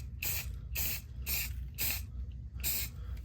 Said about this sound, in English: I'm going to spray paint these threads